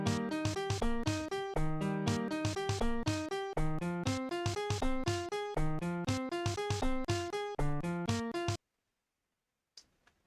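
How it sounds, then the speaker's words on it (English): An algorithmically composed piece layers a funk beat over Bach's Prelude, rapid plucked-sounding notes in a steady arpeggiated pattern with percussive hits, playing alone for about eight seconds before stopping, followed by a couple of faint clicks. "You just kind of repeat the funk beat as much as you need for Bach's Prelude and speed up or slow down as"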